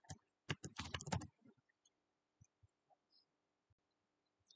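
Bursts of rapid key clacks on a computer keyboard as a username and password are entered, dense for about a second, then a few scattered, quiet keystrokes with long pauses, close and alone without talk.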